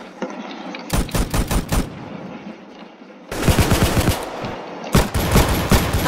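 Gunfire from a weapon in the Roblox Arsenal video game: three loud rapid bursts of automatic shots, each a quick rattling string of reports separated by short gaps.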